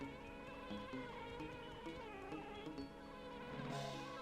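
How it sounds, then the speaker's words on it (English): Swarming bees buzzing in the Nintendo 64 game Banjo-Kazooie, a steady droning hum mixed with game music, continuous and fairly faint. "Damn bees."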